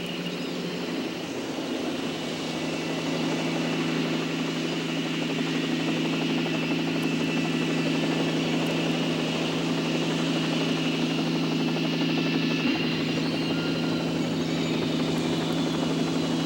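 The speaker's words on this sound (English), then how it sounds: "The big Coast Guard rescue helicopter had finally arrived." A big Coast Guard rescue helicopter arrives, its loud, steady engine and rotor drone filling the whole stretch with a constant low hum and no letup or voices.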